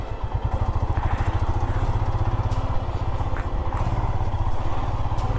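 A motorcycle engine pulses steadily and close by in a traffic jam on the road toward Manali in summer heat, the rapid low throb continuous, with faint surrounding traffic.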